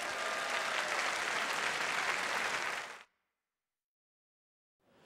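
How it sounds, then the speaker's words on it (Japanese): Audience applause at a Tekken 5 fighting game tournament in Japan, a loud, dense, steady wall of clapping for about three seconds that cuts off abruptly into silence, with a faint sound returning at the very end. "皆さん大きな拍手お願いします"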